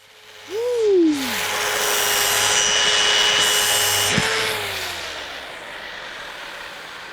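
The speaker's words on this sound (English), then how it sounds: "So you're actually sanding down all the spots that first get sanded, the high spots, down to those bandsaw marks." A wooden chair seat is power-sanded to remove bandsaw marks, a steady close-up sanding drone with a brief whining rise at the start and a sharp knock near the middle, then continuing smoothly until it tapers off.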